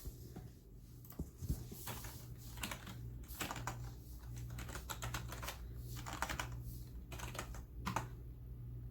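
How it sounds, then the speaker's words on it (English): Steady typing on a computer keyboard, a continuous run of close clicking keystrokes with occasional louder taps, over a low constant hum and no talk. "Let's see if I can type that in DaFont and see if it finds it."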